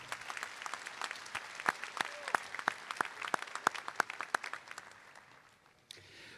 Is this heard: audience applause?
yes